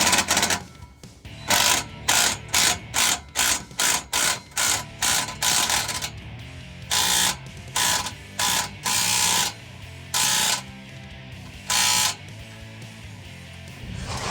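A ratchet tightens a Magnaflow muffler clamp on a 2019-2022 Silverado with a 5.3L engine, heard as repeated close bursts of quick clicking strokes with short pauses between them, with no speech.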